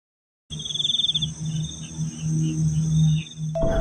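Crickets chirp at night in a steady, shrill trill that starts abruptly, with a low hum underneath and a brief pulsing stutter at the beginning.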